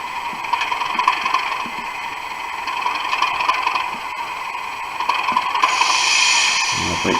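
Bachmann Class 37 model locomotive with a DCC sound decoder pulling away on a rolling road, a steady diesel engine hum that rises slightly as it moves off, close and fairly quiet.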